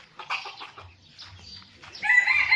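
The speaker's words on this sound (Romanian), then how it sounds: "Încă un cocoș negru aici cu moț" A black crested rooster and chickens in a backyard flock cluck in short, soft calls, followed by a louder, brighter burst of fowl calling near the end.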